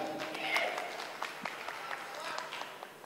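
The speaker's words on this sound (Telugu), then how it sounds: "Claps claps claps." An audience claps at a film event, a scattered patter of applause heard from a distance, fairly faint, with crowd murmur and some talk beneath it.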